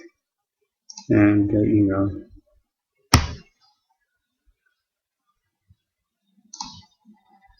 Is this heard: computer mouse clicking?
yes